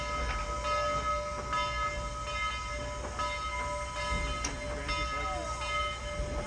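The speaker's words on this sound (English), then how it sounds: "our locomotive is going to go past our train and then through a switch" A locomotive at the Tennessee Valley Railroad museum running around its train through a switch, giving a steady low rumble with sustained tonal whine and faint clanks throughout.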